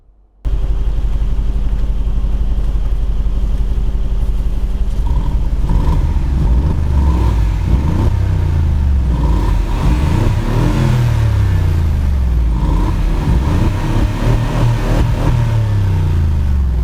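A 2016 Mercedes-Benz G500's large V8 engine idles with a deep, loud rumble, then revs repeatedly in rising and falling surges.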